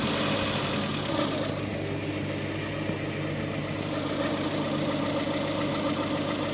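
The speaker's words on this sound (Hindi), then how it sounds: "ये देख सकते हैं आरपीएम फ्लक्चुएट हो रहा है" A Maruti Eeco CNG engine idles close by with fluctuating RPM from a misfire, a continuous rough drone that wavers slightly throughout, with no voices.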